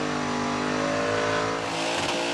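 A car engine held at high, steady revs during a burnout competition at Summernats Burnout Masters in New South Wales, loud and continuous with a sustained droning roar throughout and a slight dip near the end.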